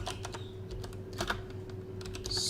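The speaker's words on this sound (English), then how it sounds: "let's type in sudo apt" Keys clatter on a computer keyboard as a terminal command is typed on a Pop!_OS Linux desktop, a quick run of close, crisp taps in uneven bursts over a steady low hum, with no talking.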